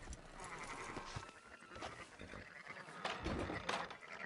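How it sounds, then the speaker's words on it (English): Sheep bleating in a Western video game, several overlapping bleats with a busy, noisy ambience around them and a stronger cluster toward the end. "Fine sheep."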